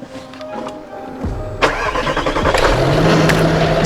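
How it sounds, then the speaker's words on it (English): Range Rover engine cranks and catches close by, then settles into a rough, rising idle with a whining tone building underneath, during a power steering fluid flush. "Yes, turn on the engine."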